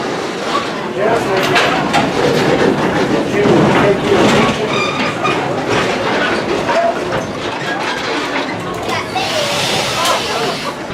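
A train rolls loudly along the rails with a continuous rattling rumble and some rhythmic clacking, heard up close from inside a car of the Mount Rainier Scenic Railroad.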